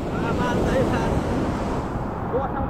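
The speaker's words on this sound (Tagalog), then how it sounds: "Hoy, malakas na yung alon, pahinga na kaya." Powerful surf breaking on a beach at dusk, a dense, steady rush of water and wind noise filling the whole moment up close.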